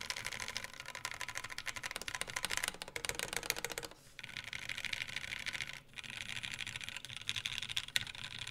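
Rapid, dense keystrokes on a Monokei KFE CE mechanical keyboard clatter close up in continuous bursts, with two brief pauses in the flurry.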